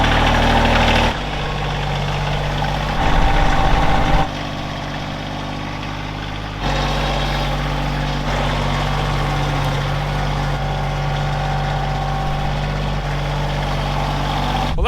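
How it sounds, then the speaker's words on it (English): A diesel farm tractor runs steadily, its low, throbbing idle rumbling close by for the full stretch, with brief louder revving and a short quieter dip partway through, and no talk over it. "I just love the sound of a diesel."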